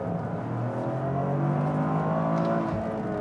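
A 2023 Toyota GR Corolla launches hard from a standstill, its engine note climbing in a steady rising drone that stays fairly even in loudness.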